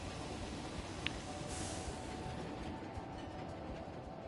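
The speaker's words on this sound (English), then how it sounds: "Train." A train rolls past in Planet Coaster 2 with a continuous rumbling clatter, broad and steady at moderate level, a faint click near the start, and no talking.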